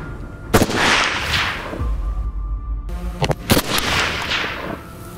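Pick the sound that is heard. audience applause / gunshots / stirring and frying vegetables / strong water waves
gunshots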